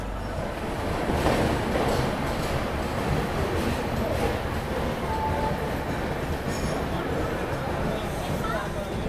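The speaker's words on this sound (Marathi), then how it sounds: "आपल्या शेजारी जी ट्रेन थांबली ना व्याप 4 लोकोमोटिव्स आहेत ही आहे धुळे CSMT इंटरसिटी" Indian Railways Dhule–CSMT Intercity express, hauled by four locomotives, rumbling to a stop on the adjacent track at Chalisgaon station, a steady loud broadband roar of wheels and carriages filling the whole stretch.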